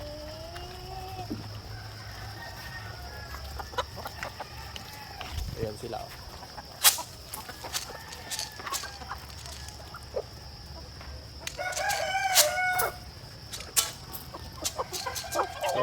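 Chickens clucking and calling in a busy flock eating whole corn, with scattered pecking and clatter, while someone talks over them.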